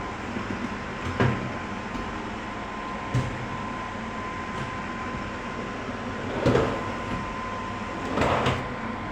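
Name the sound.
kitchen cabinet drawers closing, soft-close hydraulic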